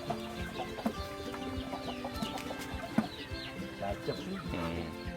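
Tame chickens cluck and murmur nearby in short, repeated bursts, with people talking at the same time.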